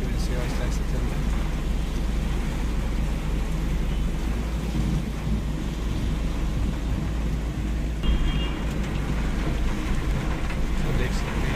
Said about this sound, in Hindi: देख सकते हैं आप कितनी बारिश हो रही है